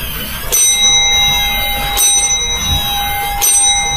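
A bell in an old ancestral house rings in repeated sharp strikes about every second and a half, each leaving a sustained metallic tone, loud and close.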